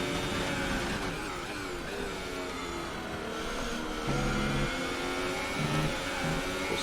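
A Formula 1 car engine in the F1 2018 racing game at the French race, held at a steady high-pitched whine for the whole stretch, loud and continuous with shifting harmonic tones as it is pushed hard.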